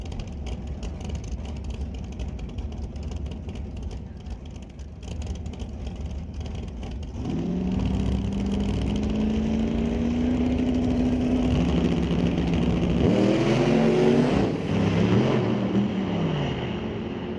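Turbocharged box-body drag race cars launch down the strip at a Doorwarz box racing event, a loud sustained engine roar rising in pitch as they accelerate, with crowd and track ambience beneath and no talk.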